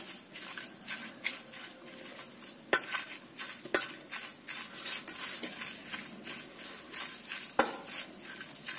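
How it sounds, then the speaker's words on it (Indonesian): A spoon scrapes and knocks against a bowl in a steady run of soft mashing strokes, mashing tofu for pepes, with a few sharper taps, close by and without talk. "Kita pecek menggunakan sendok atau garpu, terserah. Yang penting kita haluskan."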